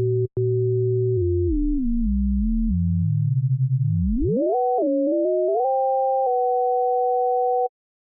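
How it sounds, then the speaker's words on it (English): Two ring-modulated sine waves in the Native Instruments Massive synthesizer produce pure electronic tones that step and glide in pitch, then settle into a steady sustained pair of tones that stops abruptly. "now you can clearly hear the sum and difference between the two sine waves"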